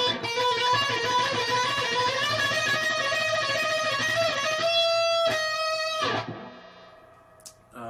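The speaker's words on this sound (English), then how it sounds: "the trem picking part would sound something like this." Heavily distorted electric guitar plays a rapid tremolo-picked melody, a dense buzzing stream of fast repeated notes shifting pitch, then stopping abruptly and leaving a fading ring and a few stray picked notes.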